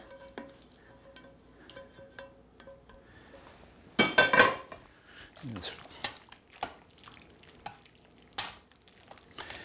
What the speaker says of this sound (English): I'm going to scrape all that goodness out of the bottom of the pan.